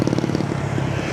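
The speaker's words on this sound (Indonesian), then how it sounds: "Kita akan menyeberang jalan, masih banyak motor yang lewat" Motorcycles pass along a roadside irrigation road in Tambun Utara, a loud steady engine drone with a fast pulsing buzz throughout.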